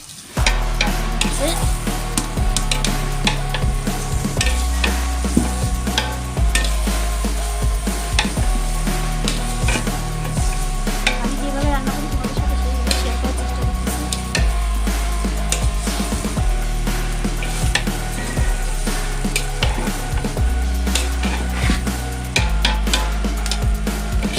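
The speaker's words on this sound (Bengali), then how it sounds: "চালটা দিয়ে দিলাম চালটা একটু ভালো করে ভেজে" Rice frying in a pot for chicken pulao, a loud, continuous close sizzle with frequent stirring scrapes throughout, under background music.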